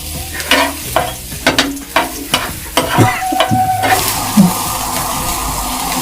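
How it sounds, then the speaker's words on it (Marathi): Three or four garlic cloves and green chillies roast in a pan, with a series of rhythmic scraping stirs over a close sizzle that settles into steady frying noise. "हे लसणाच्या पाकळ्या आहेत तीन चार त्या सुद्धा भाजून घेणार आहे"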